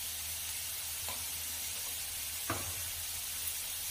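Masala frying in a pan for a moong dish, with kasuri methi and green coriander in the mix: a faint, steady sizzle and hiss with a couple of soft clinks of stirring.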